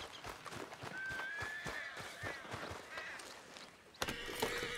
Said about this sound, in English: The horse is agitated and must be calmed before he can mount it.